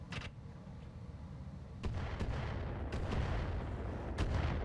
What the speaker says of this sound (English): Okay, those were awful mortars.